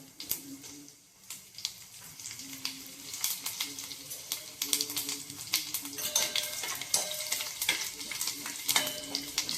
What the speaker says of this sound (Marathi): जिरं फुललं की त्यावर आपण सुकी मिरची घालणार आहोत.